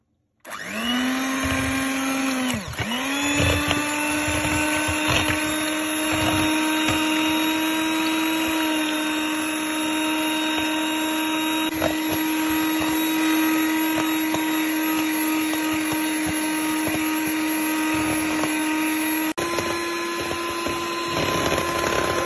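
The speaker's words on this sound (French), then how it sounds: "Je vais la monter en chantilly avec un batteur." An electric hand mixer whips cream into chantilly for a mango and baobab ice cream, a steady loud motor whine starting abruptly and running continuously, with a brief dip in pitch near the start and a slight shift near the end.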